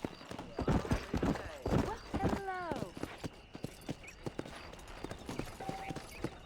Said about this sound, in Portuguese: Eu vou de cavalo mesmo.